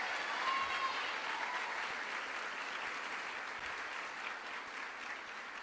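A high school honors night audience gives steady, full applause for student award recipients, many hands clapping together at a fairly even level that eases off slightly toward the end.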